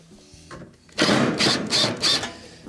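A power driver whirs in three short, close bursts, removing the Phillips screws from the bottom cover of a Whirlpool stove, with a brief mechanical click first and short pauses between bursts.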